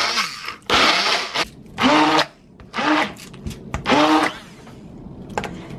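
A kitchen blender grinds about a cup and a half of dry white rice in loud, repeated bursts, the motor whining up and cutting off several times in a pulsing rhythm.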